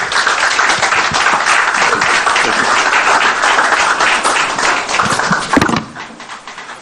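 Sustained, loud applause from a lecture audience in Ghana, dense clapping that continues steadily before tapering off sharply near the end.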